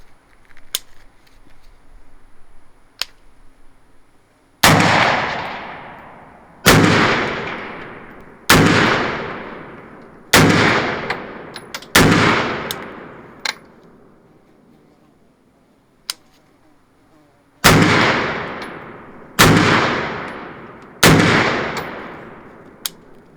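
Sharp, loud gunshots from a Smith & Wesson M&P 15 pistol chambered in 5.56 with a 7.5-inch barrel, fired one at a time at an outdoor range. Each shot rings out with a long decaying echo, about ten shots in all at uneven intervals.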